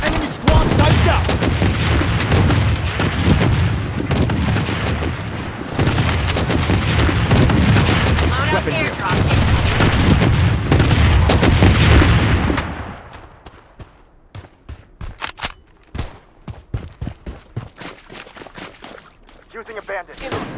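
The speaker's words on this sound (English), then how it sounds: "Missile bombardment on its way!" Missile bombardment in the shooter game BloodStrike: a long dense barrage of heavy booms and rumbling blasts for about twelve seconds, then scattered sharp gunshots and cracks, loud and close with game voices mixed in.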